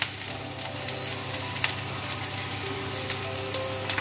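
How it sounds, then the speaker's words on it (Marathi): Chili and garlic sautéing in a pan, a steady close sizzle with faint crackles and a few light stirring taps throughout. "लगेच सॉटे होईल"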